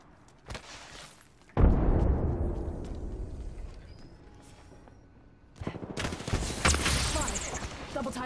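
A frag grenade blast in a battle-royale video game lands with a sudden heavy boom that rumbles for several seconds, followed by a loud burst of rapid gunfire and crackling impacts, with faint game voice lines around it.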